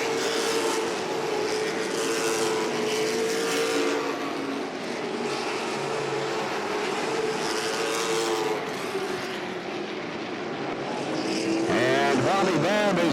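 Late model race cars roar around Langley Speedway in a steady, loud engine drone. Near the end a car passes close by with a rising and falling whine, and an announcer's voice runs faintly beneath.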